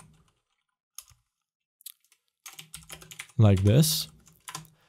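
Sparse computer keyboard keystrokes while typing code, a few scattered clicks and short clusters, with someone talking briefly over them.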